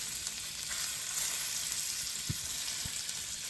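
Hosta shoots sizzling in chive blossom compound butter, a soft steady crackle and hiss close by with a couple of faint knocks, no voices.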